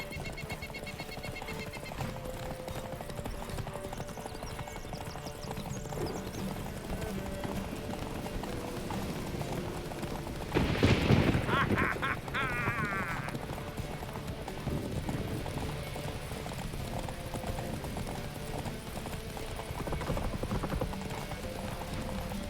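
Rhythmic clip-clop of horse hooves galloping over a steady soundtrack in The Witcher 3: Wild Hunt, with a brief louder burst midway.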